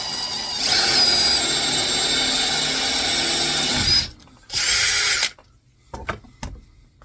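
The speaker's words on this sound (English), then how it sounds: "I'm going to drill a hole right here in this middle quarter" A power drill bores a hole through a wooden cutting board, whining loudly and steadily for about three seconds, then a short second burst, followed by a few scattered clicks and knocks.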